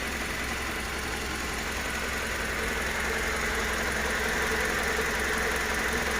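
A Toyota Commuter van's 2TR 2.7-litre VVTi petrol engine, run on gas and being checked for a coolant pressure fault, runs steadily at close range with a constant, even hum and light mechanical ticking.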